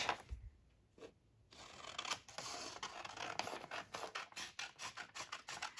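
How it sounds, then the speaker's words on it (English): Scissors cut paper for a handmade journal: after a quiet pause, a run of close, crisp snips and rustling scrapes follows in an uneven rhythm, with no one talking. "I think I'll just do some very bad cutting"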